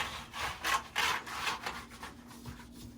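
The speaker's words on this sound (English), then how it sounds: "Wipe the workspace where your patient's going to be, armrests, as well as your mouse and keyboard." A cleaning wipe rubs over a workspace, armrests, mouse and keyboard in a lab room, giving close, quiet swishing strokes in a quick back-and-forth rhythm.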